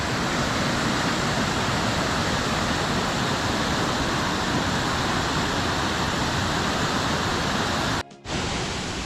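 A waterfall in Croatia or Montenegro roars as a steady, loud, broadband rush that fills the whole span, briefly cutting out near the end.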